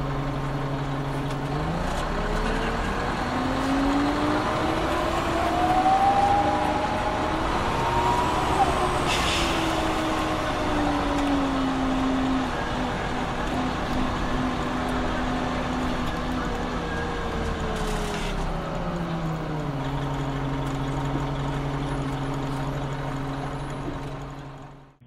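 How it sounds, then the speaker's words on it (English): Detroit Diesel Series 50 engine in an Orion 05 transit bus, a steady loud diesel drone with rising and falling harmonic whine as it revs and shifts, plus brief air brake hisses, running continuously throughout. "these Orion 5s signify the use of the Detroit Diesel Series 50 engine, which sounds like this"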